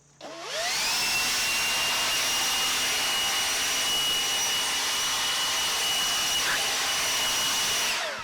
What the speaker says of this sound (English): Let's blow that grass off of the driveway.